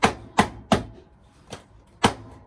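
A knife chops food on a board while meat sauce is being made: five sharp, distinct knocks spaced irregularly over a couple of seconds, close and clear with quiet between strikes.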